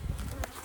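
Honey bees buzz during a hive check of Queen Ivy's colony, a brief, close, low droning hum with no voices over it.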